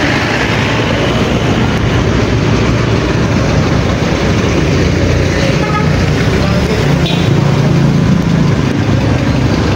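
Steady traffic on a street in Baguio on an overcast afternoon, a continuous low rumble of a few passing vehicles and engines, fairly close and unbroken, with no clear voices.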